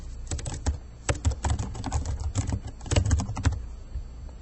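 Rapid keystrokes on a computer keyboard while a video title is entered, clattering in quick irregular bursts with brief pauses, close and fairly loud, no voices.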